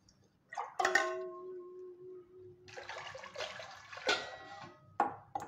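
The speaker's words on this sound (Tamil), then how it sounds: "இப்போ இதுக்கு வேகிறதுக்கு தேவையான அளவு தண்ணி விட்டுக்கலாம்." Water poured into a pressure cooker holding moong dal and potatoes, a few short splashing pours separated by pauses, close and fairly quiet.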